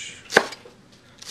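A knife chops lemongrass for tom yum soup on a board, with two sharp, close chops about a second apart and quiet in between.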